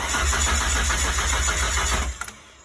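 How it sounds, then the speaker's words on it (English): A cold Ford Sierra-based Locost kit car engine cranking with a rapid, rhythmic starter churn for about two seconds, then cutting off abruptly, loud and close with no voices. "Car's a bit cold, so it won't probably start up straight away"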